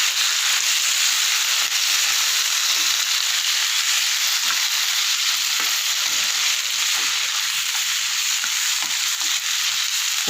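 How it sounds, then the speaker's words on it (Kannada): Onions with tomato added frying in a pan for a Kannada-style drumstick fry, a steady close sizzle with faint stirring running the whole time, no voices over it. "ಈರುಳ್ಳಿ ಚೆನ್ನಾಗಿ ಫ್ರೈ ಆಗಿದೆ. ಇವಾಗ ಟೊಮೊಟೊ ಹಾಕ್ಕೊಂಬಿಡೋಣ."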